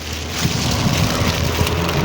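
Rain pours down during a pedicab ride in Mindanao, a close, dense patter of drops on a surface mixed with low rumbling motion, steady and fairly loud for the whole stretch.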